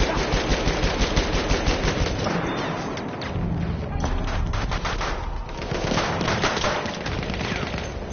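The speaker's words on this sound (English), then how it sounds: "Well, who's shooting at us?" Battlefield 1 gunfire rattles in sustained machine-gun bursts with overlapping shots and distant booms, dense and loud throughout, with scattered voices under the shooting.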